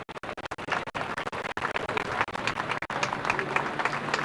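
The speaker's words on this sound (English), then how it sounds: "Să-i mai aplaudăm încă o dată pentru o poză de grup" A crowd applauds the podium winners at the 2023 UIM XCAT World Championship powerboat Grand Prix of Romania, a dense and steady patter of clapping with a few sharper nearby claps throughout.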